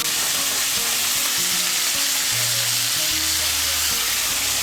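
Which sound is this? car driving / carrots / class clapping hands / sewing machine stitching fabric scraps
carrots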